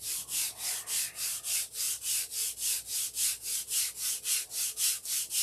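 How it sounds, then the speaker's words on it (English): Sandpaper of 180 grit is rubbed with the grain along a wooden Sig Magnum model airplane fuselage, steady rhythmic back-and-forth strokes of about three per second, close and alone. "Now I'm sanding with the grain with 180 to eliminate those scratches"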